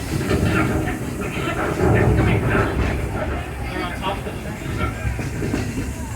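A Walt Disney World Railroad train rumbles along the tracks with a steady, noisy roar and faint rhythmic clatter, mixed with music and other background sound.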